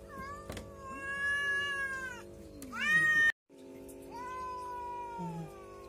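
Cats meowing and caterwauling while mating, long drawn-out wavering yowls close to the recorder with a sharp thump midway, then more calling.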